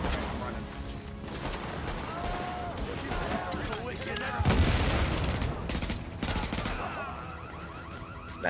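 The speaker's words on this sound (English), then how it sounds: "I just shot two barrels at them." Gunfire and exploding barrels in the video game The Division, a steady rattle of shots with a heavier blast near the middle, all beneath talk and game sounds.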